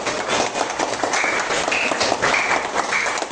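Classroom applause for a student group after their presentation, a steady, dense patter of many hands clapping close by for a few seconds.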